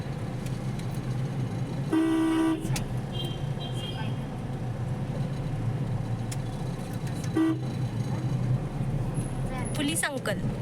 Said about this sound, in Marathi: हॉर्न वाजव मोठा.